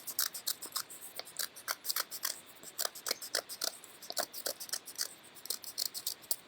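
Scissors snip paper circles for a 3D sun paper craft, a fast, steady run of crisp close cuts with short pauses between bursts, with no talking.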